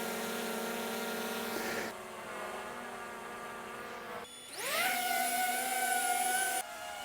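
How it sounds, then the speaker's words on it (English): Two DJI drones, an Avata 2 FPV and a Mini 4 Pro, hovering one after the other: a steady high propeller whine with strong tonal harmonics, one drone noticeably louder and brighter than the other, separated by brief gaps. "So, the Avata 2 is significantly more noisier than the Mini 4 Pro."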